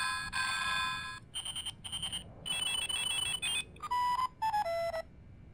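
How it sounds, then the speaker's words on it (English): A phone ringtone from the video game Silent Hill: Shattered Memories plays alone, a quick chiming electronic melody of bright, bell-like notes in short rhythmic bursts, ending with a few falling tones. "That's the current ringtone."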